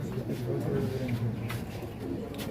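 Pigeons in a loft coo in low, soft, repeated murmurs, a steady throaty burble heard close by with some background voices.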